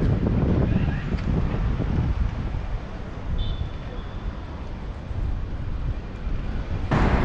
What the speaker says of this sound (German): Schade, dass es so windig ist.